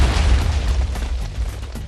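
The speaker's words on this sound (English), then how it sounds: "explosions go off everywhere" In Minecraft with the Meat Mod, booming explosions go off in rapid succession, deep and loud, blending into a continuous rumbling barrage with no talk.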